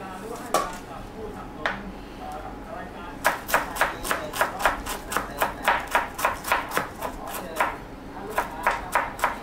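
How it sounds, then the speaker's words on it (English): A knife finely dices cabbage on a board in fast rhythmic runs of sharp chops, a few isolated strikes first and then long, quick, evenly spaced bursts, close and clear. "carry on with the rest of the cabbage until we fine diced it all"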